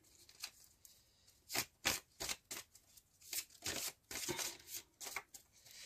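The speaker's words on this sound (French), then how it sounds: "on va tirer quelques cartes pour... finir ce tirage" Tarot cards shuffled and drawn by hand, a run of crisp riffling and slapping bursts, some quick and some drawn out, close and fairly quiet, with no talking.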